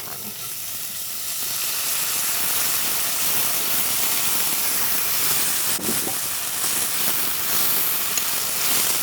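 Garlic and cumin paste sizzles in hot oil, a steady, loud hiss of frying that runs unbroken from start to finish with no voices.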